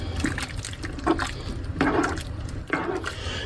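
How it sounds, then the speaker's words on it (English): Water pours into a pot of vegetable soup with potatoes, a close, steady liquid splashing and trickling with a few louder gushes, heard alone without speech. "Now, I'm going to add some water to this just to help it."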